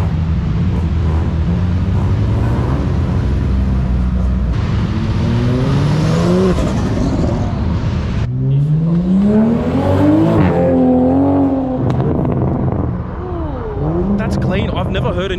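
A new Toyota Supra revs at a busy car meet, its engine note climbing and falling through several loud pulls while people chatter nearby throughout.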